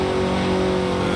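A Porsche 944 Turbo engine in the racing game Forza Horizon 3 holds a loud, steady drone with a strong tonal hum, alone and close throughout.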